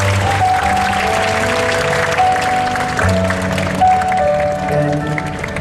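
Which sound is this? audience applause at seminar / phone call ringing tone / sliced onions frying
audience applause at seminar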